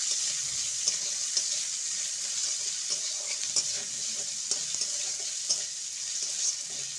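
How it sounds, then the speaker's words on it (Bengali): Grated ginger fries in a pan, a steady bright hiss of sizzling oil dotted with faint ticks and taps of a stirring spoon, with no voices. "আদাকে গ্রেট করে নিয়েছি। এবার এটাকে ভালো করে ভেজে নেব।"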